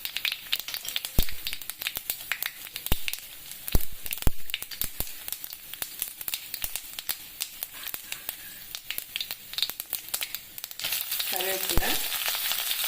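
Mustard seeds and urad dal fry in hot oil in a pot for rajma sundal tempering, giving dense, loud popping and crackling with rapid sharp sputters throughout and no voices.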